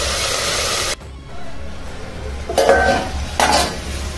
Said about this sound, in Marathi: भिजवलेले रताळ्याचे काप मी या तुपात सोडते।